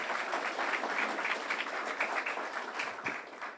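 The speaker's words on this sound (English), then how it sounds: "let's give Hope Knight a round of applause as well" Applause from a crowd at a governor's Long Island economic event, a steady wash of many hands clapping, moderately loud and sustained, tapering slightly at the end.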